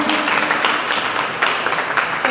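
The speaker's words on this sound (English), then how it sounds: "Give her a round of applause." Close, lively applause from a room of people, dense clapping with a few sharper claps standing out.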